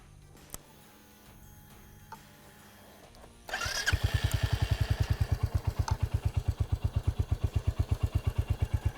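A Royal Enfield Hunter 350 motorcycle starts after quiet clicks and settles into a steady, rhythmic thumping idle, loud and close, with no one speaking.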